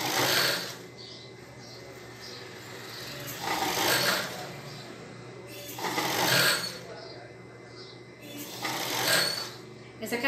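Sewing machine stitching a lycra thong, its motor whirring in three or four short bursts between pauses, with a person talking over and between the runs.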